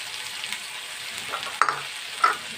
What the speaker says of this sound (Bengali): পেঁয়াজটাকে আমি তেলের মধ্যে ভেজে নিচ্ছি